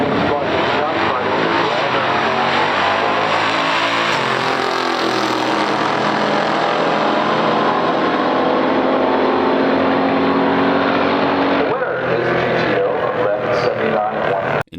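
A 1969 Chevrolet Camaro 427 L72 and a 1969 Pontiac GTO drag racing, a long loud roar of engines at full throttle that fades near the end, with a voice commentating over it.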